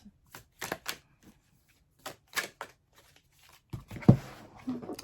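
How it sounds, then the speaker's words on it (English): Tarot cards are shuffled in quick riffling bursts, crisp papery flutters separated by short pauses, close and fairly quiet. "I'm going to shuffle the cards back in."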